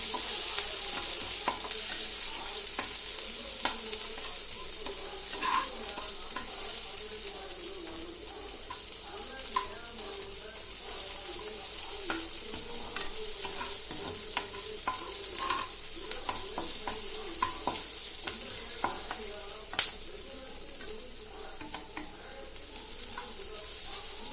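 Food fries in a pan with a constant, fairly quiet hiss while it is stirred steadily, with scattered soft scrapes and occasional light clinks of the utensil against the pan throughout.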